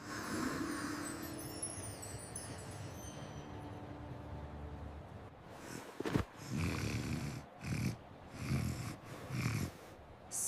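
Cartoon penguin character snoring while asleep, a steady series of soft, drawn-out breathy snores followed by a few louder snorting bursts, close and alone with no talking.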